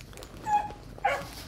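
Dogs at a Phu Quoc breed kennel in Saigon give two short whimpering yips about half a second apart, fairly close and moderately loud over faint background noise.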